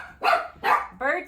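A young puppy named Bertie gives three sharp, close barks in quick succession, each one loud and short with brief gaps between them.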